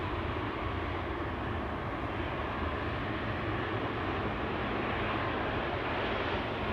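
KLM Boeing 777 jet airliner, registration PH-BVN, on flight 597 to Cape Town at Amsterdam Schiphol, passing with a steady, broad, loud engine roar that holds evenly throughout, with no voices.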